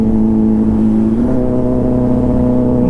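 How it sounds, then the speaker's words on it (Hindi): Kawasaki Z900 superbike exhaust dropping through a downshift, a steady close, loud engine drone with a slight pitch shift partway through and no talking. "डाउन शिफ्ट का जो साउंड हो ना, जब डाउन शिफ्ट कर रहा है, जब ऐसा साउंड निकाल रहा है ना"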